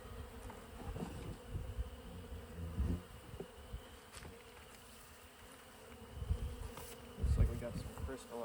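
Honey bees buzz at an open beehive, a soft continuous hum with louder swells as individual bees pass close, faint and steady throughout.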